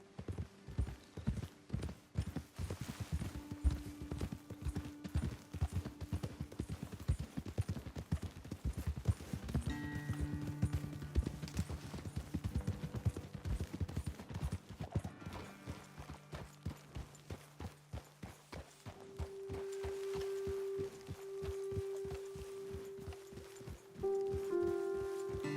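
Horses' hooves clip-clop steadily on a trail in the Red Dead Redemption 2 video game, close and rhythmic for most of the stretch, with sustained musical tones underneath and a brief pause near the end.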